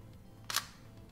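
A Sony a6000 camera fires its shutter once for a selfie, a single crisp mechanical click in the middle against a quiet room.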